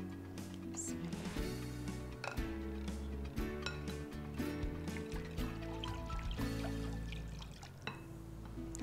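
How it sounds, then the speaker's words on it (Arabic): Liquid ingredients, likely buttermilk batter for pancakes, pour into a bowl in a close, steady trickle with soft splashes and faint handling knocks. "هنزل بالمواد السائله بالسائل هنا"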